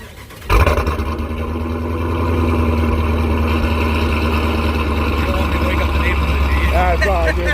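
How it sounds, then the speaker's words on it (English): A supercharged 5.7 V8 Dodge Challenger cranks and fires abruptly on a cold start, then settles into a loud, steady, throaty idle with a high supercharger whine; no talking. "Let's get a cold start on this thing."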